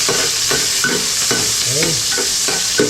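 Garlic fries in a pan with a bright, continuous hiss and repeated scraping strokes from a spatula at a steady rhythm, close and fairly loud.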